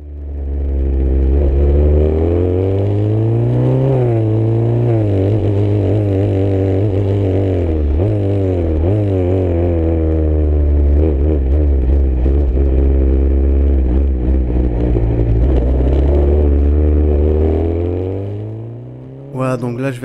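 Formula 3 race car engine lapping the Paul Ricard circuit, heard onboard as revs climb and drop through gear changes in a continuous twenty-second run, with a voice talking over it.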